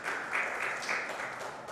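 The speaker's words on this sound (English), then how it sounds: "Everybody give a quick round of applause for David Gent." Brief, fairly faint round of applause from an audience at a vintage computer festival talk, a short steady patter of clapping with no speech.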